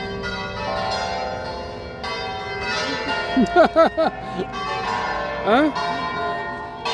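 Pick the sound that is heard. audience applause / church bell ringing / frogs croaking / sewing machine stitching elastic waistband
church bell ringing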